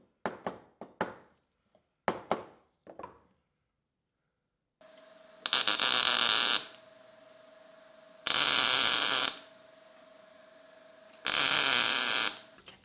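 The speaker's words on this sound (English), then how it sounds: "you're going to watch me weld it in there anyway" Spot welding of a mesh onto a titanium piece gives three loud buzzing bursts, each about a second long, over a steady hum, after some sharp handling clicks and taps.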